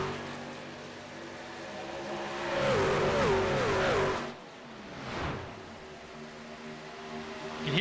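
A race truck in a truck-series racing video game sweeps past, its engine swelling to a loud whine and then dropping off quickly, followed by a fainter second rush and a low steady drone.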